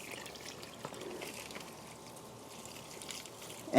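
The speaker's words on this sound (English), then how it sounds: "And while I'm watering this" Water poured from a watering can trickles steadily into the soil of a potted cherimoya tree at a nursery, a soft continuous splash that stays faint and close with no talking.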